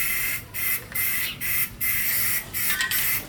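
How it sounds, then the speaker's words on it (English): A paint sprayer coats a car panel in short bursts of hissing spray, about six pulses broken by brief pauses with the trigger released, close and fairly loud, with no voices. "I went and got the fucking Gooch Sprayer 9000."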